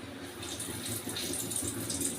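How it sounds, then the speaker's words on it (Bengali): Amudi fish pieces, dipped in cornflour batter for pakora, slipping one by one into hot oil and frying with a steady, close sizzling hiss that runs unbroken from start to end. "তেলটা গরম হয়ে গেছে। তো আমি একে একে এরকমভাবে ছেড়ে দিচ্ছি আমুদি মাছগুলো।"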